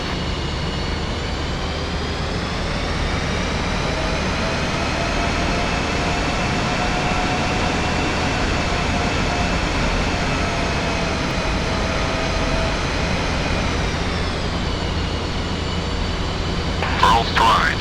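In the DCS flight simulator, an F-5E jet taxis onto the runway with a steady, loud engine whine and roar. The tone holds level and shifts slightly near the end, and no talking is heard over it.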